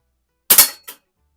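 Two sharp pneumatic cracks from a Hawthorne M130 .22 multi-pump pellet pistol fired at a dangling spinner target, the first a quick double burst and the second shorter and softer, each followed by silence.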